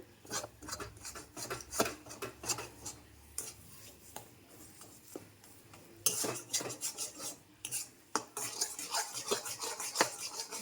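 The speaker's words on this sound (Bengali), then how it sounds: "পুরো আলুর সাথে পনিরটাকে আমি মাখিয়ে নেব, আর একটু কষিয়ে নেব এর সাথে।" A spoon scrapes and clatters against a pan as grated paneer is stirred into frying potatoes, with irregular rasping strokes and sharp metallic knocks, close and fairly quiet.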